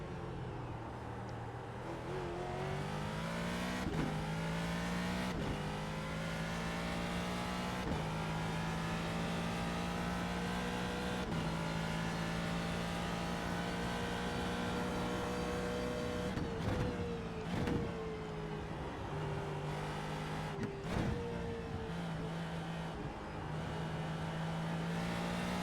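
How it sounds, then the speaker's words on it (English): A Ford GT2 race car in the iRacing sim at Suzuka holds a steady, loud engine drone through corners, the pitch climbing through each gear and dropping sharply at quick upshifts and braking, heard from the car with no talk. "you can hear this beautiful car for a couple corners"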